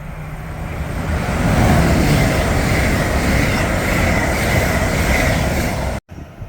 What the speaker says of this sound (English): past 3 now is another Avanti West Coast Ivero running 20 minutes late from Birmingham New Street to London Euston